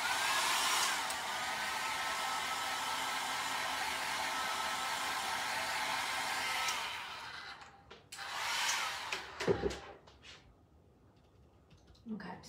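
A hair dryer blows with a steady, loud whoosh for several seconds while drying ink on vinyl stickers, then shuts off, followed by a few brief handling knocks and clatters.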